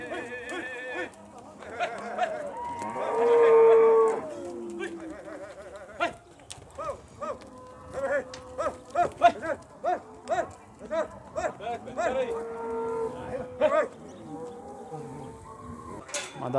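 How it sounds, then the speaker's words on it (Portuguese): Cattle at a livestock fair in Campina Grande lowing in long drawn calls, with many shorter overlapping moos from the herd and someone speaking over them. "Boiada bonita."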